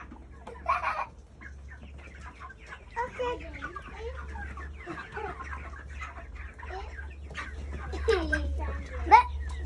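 Chickens cluck and squawk at a farm in short scattered calls, close by, while children and an adult talk throughout and low rumbling noise runs underneath.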